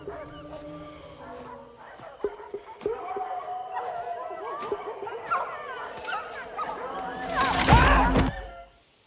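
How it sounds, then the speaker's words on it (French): Several dogs barking, yipping and whimpering near a bull, excited calls scattered throughout and rising to a loud burst near the end, with people talking over them. "Qu'est-ce qu'ils ont, ces chiens, quoi?"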